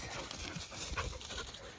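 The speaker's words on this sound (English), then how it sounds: "Are you gonna be a real farm dog?" A dog pants steadily on a farm in quick breathy puffs, close and soft, against a hissy background.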